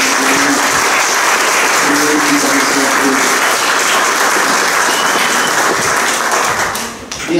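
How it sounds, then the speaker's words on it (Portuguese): A church community celebrating parents and godparents breaks into sustained clapping, a loud, dense, continuous wash that tapers slightly near the end. "Uma salva de palmas."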